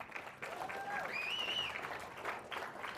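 A school auditorium crowd at a middle school reading competition applauds steadily throughout, with a whistle rising through the clapping.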